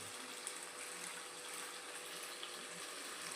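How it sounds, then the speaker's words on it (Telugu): Mint and coriander leaves rinsed in water, a steady broadband wash of running and splashing water throughout, fairly faint and even, with no talk. "ఈ రెండింటిని బాగా కడుక్కోవాలి నీళ్ళల్లో"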